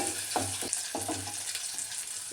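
Masala sizzles and fries steadily in a pan while being prepared for a mutton dish, with a continuous crackle and occasional stirring scrapes close by.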